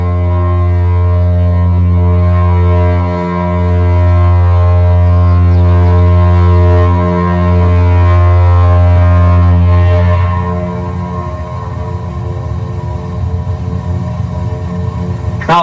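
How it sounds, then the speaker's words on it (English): A test foghorn at Albert Head for the Department of Transport blows a deep, loud, sustained tone in long blasts with brief breaks, ending around ten seconds in a rougher, noisier tail. "Here is one during foghorn developments for the Department of Transport, Ottawa, on foghorns at Albert Head."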